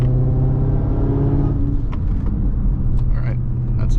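Dodge Charger Hellcat cruising in highway traffic, heard from inside the cabin as a loud, steady low engine drone and road rumble, with faint tonal hum shifting midway and a voice speaking intermittently over it.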